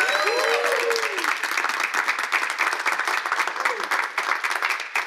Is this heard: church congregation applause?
yes